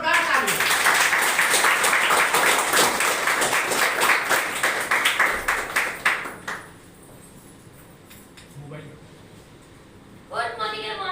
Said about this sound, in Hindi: हेमलता रोहित मैम को जोरदार तालियां।